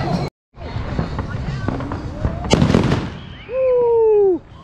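Fourth of July neighborhood fireworks crackle and pop in rapid bursts, with a whistling rocket rising at the end; voices can be heard amid the blasts.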